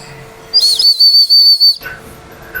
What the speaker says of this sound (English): So here we have another little product, so it's a little whistle.